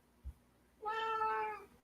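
A female cat gives one drawn-out, tonal meow lasting close to a second, heard near and clear in a quiet room after a brief soft thump.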